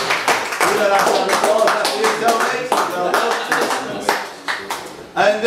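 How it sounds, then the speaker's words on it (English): An audience at a British championship prize announcement breaks into a round of applause, with dense, close hand clapping that swells, keeps a strong level and tapers in waves, and a voice faintly heard through it. "give that round of applause"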